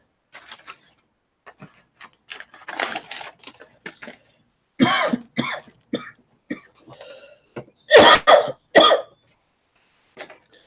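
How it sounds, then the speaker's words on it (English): Several sharp coughs burst out in clusters, loud and close, with scattered softer throat noises and breathy sounds in between. "My cough sounds the same"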